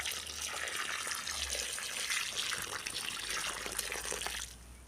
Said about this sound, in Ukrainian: поляю ним рослинку цим розчином для кращого укорінення